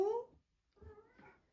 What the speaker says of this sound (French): Ça fait 1 heure qu'elle miaule parce que madame veut sa pâtée.